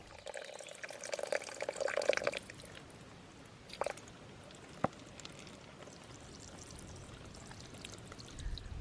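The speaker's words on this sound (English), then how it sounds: "help you collect water from the trickle that comes from further up the stream" A thin trickle of stream water runs from a pipe along a hiking trail, with a soft continuous pour and splash and a few brief drips. It is faint and steady, with no talk.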